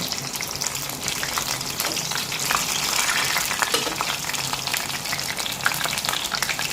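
Batter-coated enoki mushrooms deep-fry in hot oil, giving a dense, loud, unbroken bubbling sizzle up close with small pops throughout; no voices.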